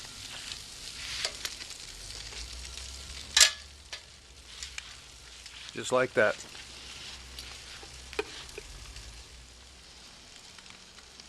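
Fish wrapped in aluminum foil sizzles and hisses steadily over an open fire, with a few sharper crackles and pops rising above the frying noise; someone speaks briefly near the start.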